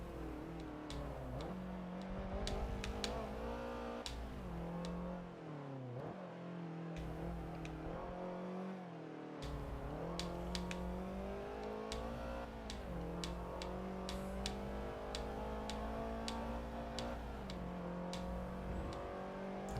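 Race cars in a racing video game drone and rev continuously, engine pitch rising and falling through gear shifts and corners, steady and moderately quiet with no talking over it.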